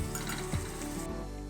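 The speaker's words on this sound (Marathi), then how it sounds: "आता ह्या मिरचीच्या वरतीच आपल्याला हिंग घालून घ्यायचा आहे।" Brief sizzle of hot oil as asafoetida goes over chillies and ground garlic paste for a harbhara-leaf bhaji, a steady frying hiss with a soft clink midway.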